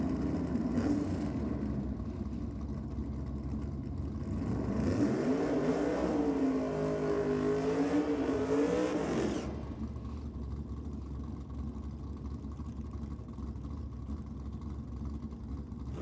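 A Tirana drag race car at a Sydney strip, heard as an engine note that swells and climbs in pitch through the middle, then fades back to a steady distant drone.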